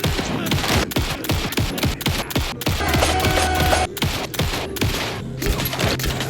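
Rapid gunfire from a new weapon in the game Alan Wake 2, a loud dense fusillade of close, sharp shots in quick succession with brief pauses.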